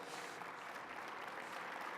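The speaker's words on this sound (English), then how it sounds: "How about another round of applause" An audience at a space symposium opening ceremony applauds steadily for about two seconds, a dense, even wash of clapping heard alone at moderate distance.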